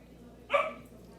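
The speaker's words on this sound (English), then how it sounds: "These dogs." A dog gives a single short bark, nearby and fairly faint, over a quiet room background.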